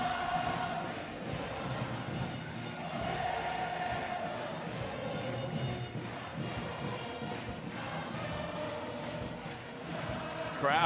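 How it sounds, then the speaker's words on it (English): A basketball crowd cheers and chatters steadily inside the Villeneuve d'Ascq arena during a women's EuroCup game, a continuous roar of many voices with a commentator talking over it. "Crowd are enjoying themselves"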